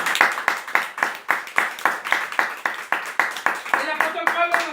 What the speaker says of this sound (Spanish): Den un fuerte aplauso al Rey de Reyes y Señor de Señores.